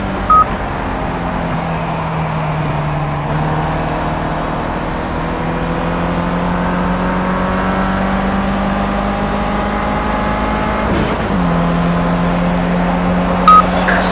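Audi A1 Quattro racing engine in Project CARS at Zolder, a steady loud drone with rising harmonic sweeps as it climbs through the gears, one sharp dip and shift near the end.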